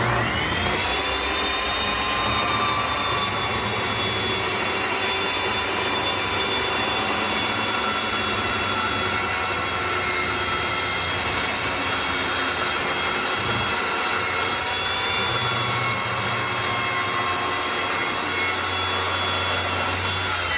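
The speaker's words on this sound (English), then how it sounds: "And now we're going to cut this off." A saw cuts the end off a rustic barn wood board clamped along a squared line for a hearth topper, giving a loud, steady grinding rasp that runs unbroken for about twenty seconds with no talking.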